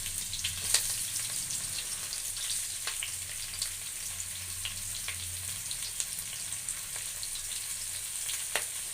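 Chopped onions and green chillies fry in a pan for a vegetable biryani, a soft, steady sizzle with occasional faint crackles and stirring clicks, heard alone with no talking.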